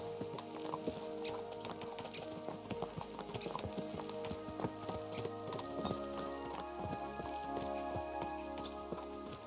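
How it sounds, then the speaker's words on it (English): Horse hooves clip-clop in a rapid, steady rhythm on the ground in the video game Kingdom Come: Deliverance II, the galloping even and continuous at moderate volume with faint background ambience. "Let's really spur these horses on, eh?"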